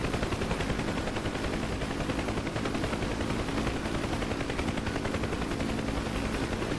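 Door gun fired by the co-pilot of a UH-1 Huey helicopter in DCS: a rapid, continuous stream of shots over the steady thrum of rotor and turbine, loud and close, with no talk.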